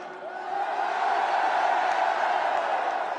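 A large crowd roars and cheers continuously at Éric Zemmour's outdoor political rally at the Trocadéro in Paris, a loud, sustained wall of voices with scattered whoops rising through it.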